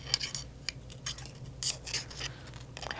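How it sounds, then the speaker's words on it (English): Utility scissors from a sewing room give quiet, brief metallic snips and clicks as they are handled, several scattered through a few seconds of near silence. "This is kind of a utility scissor for my sewing room"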